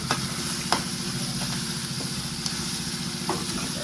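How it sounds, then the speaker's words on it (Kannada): Onion, curry leaves and garlic sizzle and fry in a pan, a steady close sizzle with sharp clicks of stirring scattered through it and no voices. "ಇವಾಗ ಆನಿಯನ್ ಹಾಕ್ಬಿಟ್ಟು ಕರಿಬೇವಿನ ಸೊಪ್ಪು ಎರಡು ಸೇರಿಸಿ, ಬೆಳ್ಳುಳ್ಳಿ"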